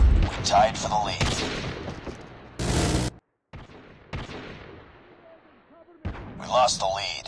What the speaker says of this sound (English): Hostile sentry gun spotted.